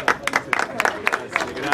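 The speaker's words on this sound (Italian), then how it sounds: "facciamo un applauso a Giuseppe Ossa" Crowd at a charity football match event in Marigliano applauds in brief bursts, uneven clusters of claps rising and falling over a noisy background.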